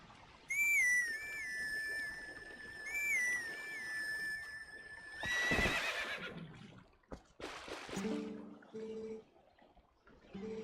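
In the video game Zelda: Twilight Princess, a high, reedy grass-whistle melody repeats twice, followed by a loud whinny and snorts from the horse Epona, then a few soft low musical notes.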